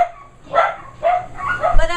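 Several dogs bark and yip repeatedly at a weed whacker, the bursts coming about every half second, close and fairly loud, with a voice audible at the end.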